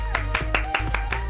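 Hand claps inside the Fortnite video game, celebrating a Death Run escape map, come as six evenly spaced, loud claps over a steady low in-game hum.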